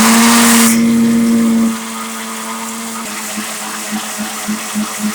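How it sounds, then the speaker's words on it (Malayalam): A mixer-jar blender loud with rose apple (chambakka) for juice whirs at a steady high pitch for under two seconds, then cuts off, leaving quieter rattling and a few soft knocks. "ഇനി നമുക്ക് ഇതൊന്ന് അടിച്ചെടുക്കാം"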